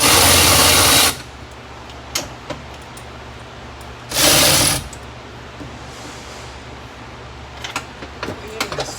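Power ratchet with a swivel removing a bolt on a 2002–2006 Ford E-series van, two loud whirring bursts about a second long, with faint clicks and handling noises between.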